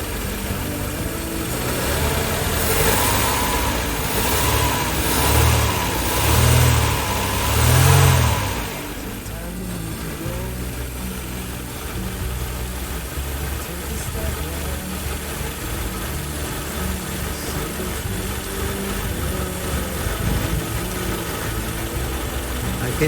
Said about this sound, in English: But the car is actually running.